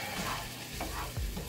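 Garlic sizzles and fries in a pan for vegan black-eyed peas, a steady close crackle with occasional stirring, and no talking.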